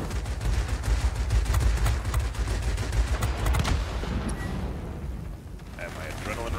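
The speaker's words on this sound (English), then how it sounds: "Oh, I'm shooting at my own teammate." Aircraft guns firing in the World of Warplanes game, a rapid rattling burst of gunfire with heavy booms that runs for about four seconds, then fades into quieter engine noise.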